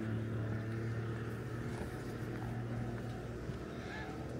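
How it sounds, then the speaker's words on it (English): A speedboat heads out of the harbour at West Bay, Dorset, its engine giving a steady low droning hum with wind and water noise throughout, at moderate distance and without pauses. "Someone just picked up their speedboat there."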